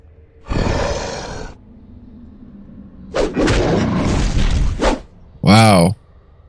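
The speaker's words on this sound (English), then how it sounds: "Wow. Sweet. Sweet explosion." An explosion in the video game Geneforge lands as a loud burst of crackling, rumbling noise, then a second, longer blast a moment later, followed by a short vocal roar or groan.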